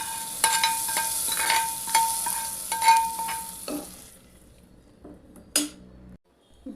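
Tempering poured into a pot of sambar made with coriander leaves, sizzling and crackling with clinks of a metal pan and spoon, then the sizzle dies away to near silence.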